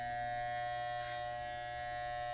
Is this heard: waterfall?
no